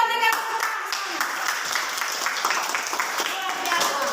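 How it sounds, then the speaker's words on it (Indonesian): A classroom of pupils claps together for several seconds, a dense, steady patter of hands filling the room, with voices mixed in throughout. "Oke, kita berikan tepuk tangan."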